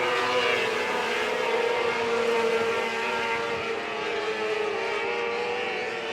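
Micro sprint race cars roar steadily around the dirt oval at I-30 Speedway during a POWRi Outlaw Micro Sprint League event, engines droning continuously at a distance with no voices over them.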